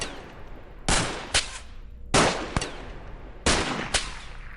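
A handgun in the XCOM video game is emptied in a mag dump: three loud, close bursts of rapid shots, each burst a pair of sharp cracks followed by a reverberant tail, evenly spaced and with no talking.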